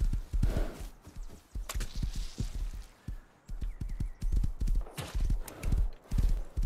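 Rapid hoofbeats of a horse in the video game Rust clip-clop steadily in a galloping rhythm, close and loud, with a brief pause midway before the pounding resumes.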